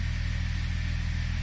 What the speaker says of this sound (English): Seems to be idling really good.